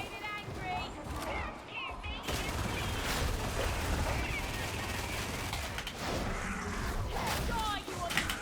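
A Veteran's lasgun fires at a heretic boss in an action shooter, rapid volleys of crackling shots blending into a steady, loud barrage with metallic clatter throughout.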